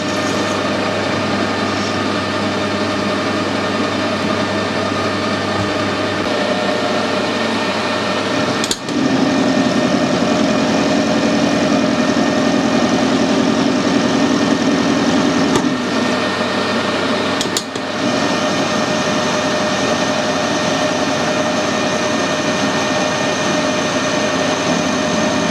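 A metal lathe runs slowly with a steady mechanical hum and whir for a long stretch, broken by a few brief clicks or knocks.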